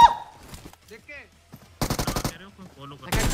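An M4 rifle fires in rapid bursts of clipped, punchy shots in a video game, two distinct strings of automatic fire, while players talk and shout excitedly around them.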